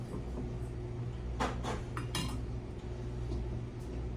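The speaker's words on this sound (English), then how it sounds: "Just gonna ladle it back in the jar." Apple cider vinegar being ladled back into a jar, with metal ladle clinks and glassy taps against the jar over a steady background hum, close and brief.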